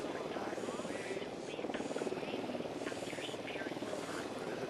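A surveillance drone deployed in Ghost Recon Wildlands gives off a steady, quiet whirring buzz that runs unbroken throughout, with faint background game ambience.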